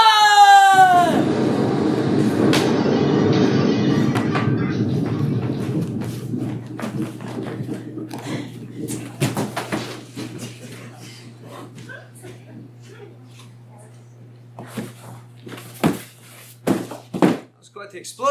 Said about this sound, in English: Quite the explosion now, wasn't it?